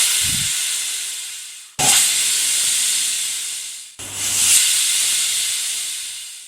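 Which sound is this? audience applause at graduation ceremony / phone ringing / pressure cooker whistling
pressure cooker whistling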